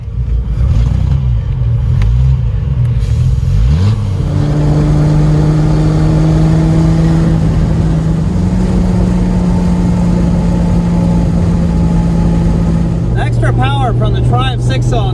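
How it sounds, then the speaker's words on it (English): A TVR Vixen 2500 with a Triumph six-cylinder engine drives close by, its loud engine droning steadily and rising in pitch as it pulls through the gears, with a brief shift break early on. "Power from the Triumph six-cylinder is noticeable immediately."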